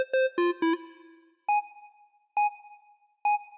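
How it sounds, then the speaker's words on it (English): A simple square lead bleep synth in a UK garage track: a few quick stepped bleeps open, then single clipped bleeps repeat at an even, spaced rhythm, clean and alone. "On top of the bass there's another sound playing,"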